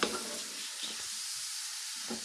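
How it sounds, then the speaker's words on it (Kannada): Grated carrots fry in ghee for carrot halwa, a soft steady sizzle with faint stirring scrapes, quiet and close, with no voices. "ನೋಡಿ ತುಪ್ಪದಲ್ಲಿ ಫ್ರೈ ಮಾಡುವ"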